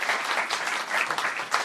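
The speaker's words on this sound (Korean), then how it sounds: "우리 손혜원 의원님 다시 한번 박수로 환영하겠습니다" An audience claps to welcome a Korean lawmaker at a public talk, a brief, moderately loud burst of many hands with a fluttering, uneven texture and no voices.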